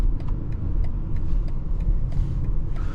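A 2023 BMW X4 30i on the road, its engine giving a steady low rumble with road and tyre noise from inside the cabin, no voices over it.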